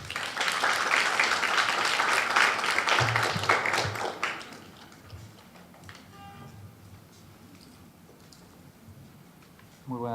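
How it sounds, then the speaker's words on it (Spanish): An audience at a legal lecture evening gives a warm round of applause to welcome the speaker, with dense clapping for about four seconds that then drops to scattered faint sounds in a quiet hall. "a quien recibimos con un fuerte aplauso."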